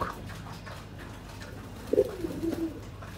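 A pigeon gives a short, low coo and a soft follow-up murmur near the middle, close by over a quiet indoor background.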